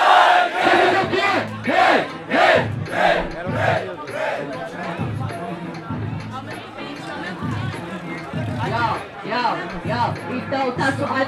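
Rap battle crowd at Batalha do Tanque chanting a one-word shout in unison, repeated rhythmic bursts from a large audience with chatter and hubbub between the chants.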